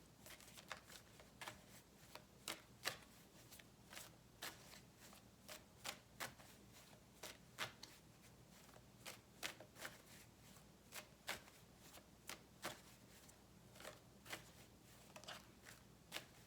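Tarot cards are shuffled over and over, a regular series of sharp papery snaps and riffles, close but soft against a faint steady room hum, with no voices.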